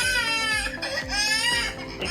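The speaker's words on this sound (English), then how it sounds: "Now, I'm about to play a baby crying sound." A recorded baby's cry played back through the KiddoGuardian monitor: a loud, continuous wailing infant voice with strained rising and falling pitch, steady throughout with brief catches of breath, over a repeating low thumping rhythm underneath.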